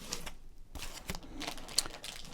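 Foil wrapper of a 1989 Fleer baseball card pack crinkles and tears in a quiet room, close-up rustling with a few sharp crackles and no talking.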